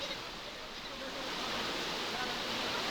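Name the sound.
heavy rain with thunder in Belagavi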